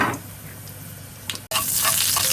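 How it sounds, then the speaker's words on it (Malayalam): Cut red chillies fry in hot oil with mustard seeds: a soft hiss first, then after a brief break a louder, brighter spitting sizzle close by, with no one talking. "1-2 ചുവന്ന പച്ചമുളക് മുറിച്ചത് ചേർത്ത് വറക്കാം"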